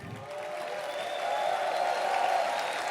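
Large crowd applauding steadily in a packed arena at a League of Legends esports final, a dense, sustained wash of clapping and cheering that swells slightly partway through, with no talking over it.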